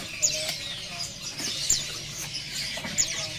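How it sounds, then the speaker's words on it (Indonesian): Several short high chirps and faint tweets from a kerak basi bird, a songbird offered at a bird market, scattered over a few seconds with steady background noise. "Ini ada burung kerak basi ya."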